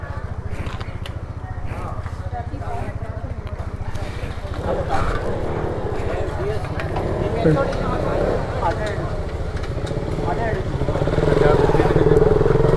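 A KTM Duke 200 BS3 motorcycle fitted with a GT exhaust idles nearby, giving a steady low rumble that swells louder toward the end, with people talking over it.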